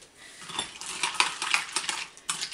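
A spoon clinks and scrapes in a bowl while chocolate is stirred with coconut milk, in quick irregular taps and rattles that are soft and close, with no one speaking.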